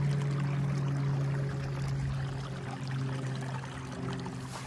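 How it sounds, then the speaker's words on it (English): Water pours and trickles steadily over a beaver dam at a trapping site, a continuous close wash with a low steady hum running beneath it throughout. "Got the water running."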